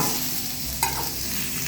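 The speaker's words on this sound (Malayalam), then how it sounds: "ക്യാരറ്റ് വഴണ്ട് വന്നിട്ടുണ്ട്." Carrots for sambar sautéing in a pan, a dense steady sizzle close up with one brief clink of a spoon near the middle.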